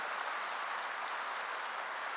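A church congregation applauds during a sermon, a steady wash of many hands clapping at moderate distance with no voices over it.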